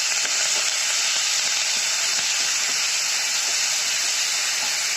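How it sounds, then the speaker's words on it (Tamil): Chopped tomatoes dropped into a pan of frying onions and curry leaves, giving a dense, continuous hiss and crackle of sizzling oil with small pops scattered throughout, close and steady. "இப்போ கட் பண்ணி வச்சுருக்க தக்காளி போட்டுக்கலாம்"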